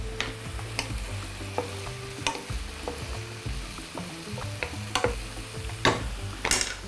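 Cauliflower and mushrooms fry in a pan with a steady soft sizzle, broken by repeated clicks and scrapes of stirring, close and fairly quiet.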